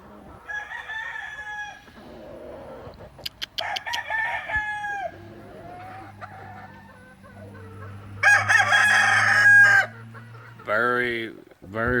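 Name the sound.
gamefowl chickens and roosters crowing and clucking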